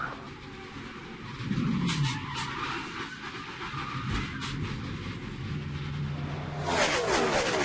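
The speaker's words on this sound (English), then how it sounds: "You see Jimmy Johnson on the left-hand side of the screen sliding through." NASCAR stock cars slide on the track at a Kansas race, with a roaring engine drone under brief tyre squeals and skidding, heard as broadcast race audio.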